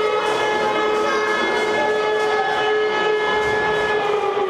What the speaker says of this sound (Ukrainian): гучить сирена.